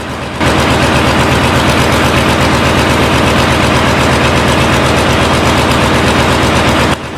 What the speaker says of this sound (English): The engines sound like a lion roaring.